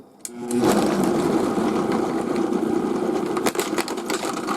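A Vitamix or Blendtec blender starts up on speed 1 with spinach for a green smoothie, a steady loud motor whir running continuously after a short click at the start, with no talking.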